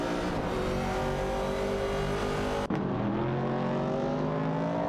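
Racing car engines in an AI-driven racing video game roar steadily at high revs, a sustained loud drone with shifting pitch and a brief gear-change break midway, no talking.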